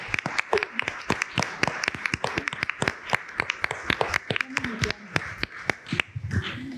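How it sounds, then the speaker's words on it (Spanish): Audience clapping in a quick burst of sharp, distinct claps, fairly close and moderately loud, with a few voices between them. "un aplauso muy grande para ti también"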